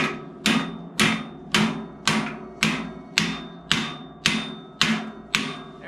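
Ten sharp, evenly spaced smacks about half a second apart as a hand strikes the cranks of a 1963 Schwinn Traveler, driving the cotter pins home; each hit is loud and close with a short ringing decay.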